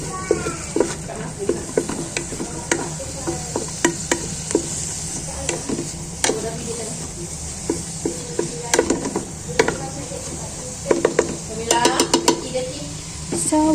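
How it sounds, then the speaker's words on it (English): Food stirred in a pan for baked pasta: repeated scraping and clinking of a utensil against the pan over a steady frying sizzle, close and moderately loud, with no talking. "we're going to stir it lightly until the aroma rises"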